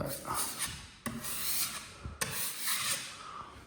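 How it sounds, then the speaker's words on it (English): Filler being sanded by hand with 120-grit sandpaper during a renovation: steady, close rasping strokes in long passes, with two short breaks where the paper is lifted and the motion starts again. "sand it off with a much finer sandpaper, like a 120."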